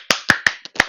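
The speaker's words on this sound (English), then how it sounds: "A round of applause." Five crisp, close hand claps from a single person in quick irregular rhythm, each sharp and loud against a quiet room, with no talking.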